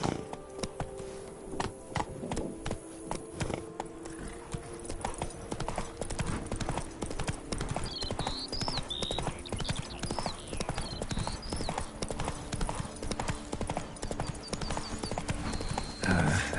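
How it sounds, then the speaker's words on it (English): Horse hooves clip-clop steadily at a walking pace in The Witcher 3: Wild Hunt (Blood and Wine), close and continuous with game ambience, a bird-like chirping and a brief whinny-like sound near the end. "Whoa there, Roach."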